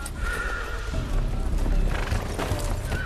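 Horses whinny loudly amid a clatter of hooves on the road as riders are ordered to dismount at a checkpoint in a fantasy drama setting; the neighing rises clearly over a busy, continuous background of movement.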